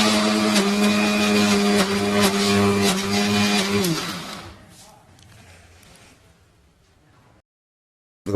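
A kitchen blender grinds boiled banana flower with green chillies into a paste, a loud steady whirring motor that winds down midway and fades to quiet before stopping.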